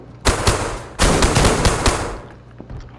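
Gunfire from the video game DayZ: a loud close shot, then a rapid burst of automatic fire with several sharp cracks, trailing off into a few fainter shots.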